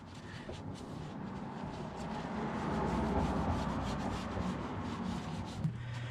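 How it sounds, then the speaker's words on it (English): A rag wipes the valve cover mating surface of a Honda S2000 engine, giving a steady, close rubbing and scrubbing sound that swells slightly in the middle and then eases, with no talk. "get yourself a rag, and we want to make sure the mating surface here is fairly clean"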